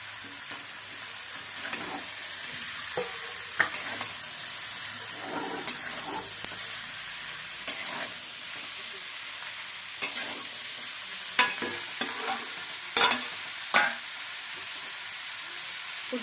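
Bottle gourd with turmeric fries in a pan for a katla fish head, gourd and potato ghonto, a loud continuous sizzle punctuated by regular scraping strokes of a stirring spoon, close by.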